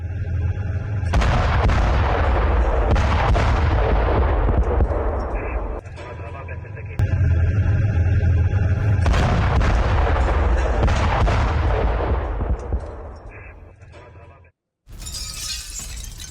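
Loud blasts and crashing debris as the Israeli army demolishes a building in southern Lebanon, with a heavy sustained roar and rumble that fades out before a short final burst.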